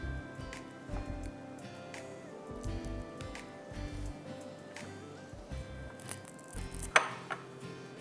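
Knife chopping banana into slices for banana cream, a run of crisp, irregular cuts against a board, close and fairly quiet, with soft tonal music underneath.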